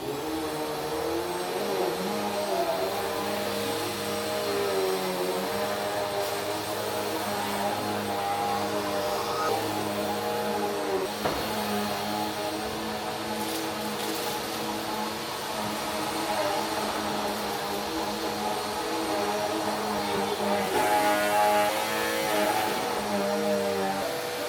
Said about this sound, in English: And all we have left to do is vacuum.